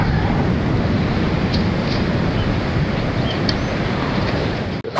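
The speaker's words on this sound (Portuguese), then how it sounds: "tô aqui num ponto onde a água quebra aqui nas pedras, né?" Sea water breaks on rocks at low tide on a cold day, making a loud, steady, close roar of surf mixed with wind buffeting the microphone.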